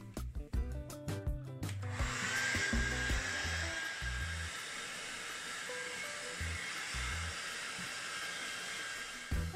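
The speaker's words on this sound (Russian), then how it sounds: "если у меня нет времени сушить лапшу вот таким способом, то я ее сушу обыкновенным феном для сушки волос" Hair dryer blows air over homemade egg noodles to dry them, a steady loud hiss and rush of air after a couple of seconds of clicking and fumbling, with faint handling knocks underneath.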